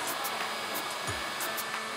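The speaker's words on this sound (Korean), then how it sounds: "충전된 청소기들을 풀파워로 작동했을 때 LG A9은 7분 50초 방전" Cordless stick vacuums, a Dyson V10, LG A9 and Samsung Jet, run together at full power, making a steady, loud, high-pitched whirring roar with no voices.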